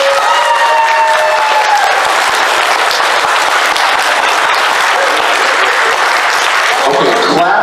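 A large audience at a fan convention bursts into loud, sustained applause and cheering for pineapple on pizza, a continuous wall of clapping with whoops rising through it before fading at the end.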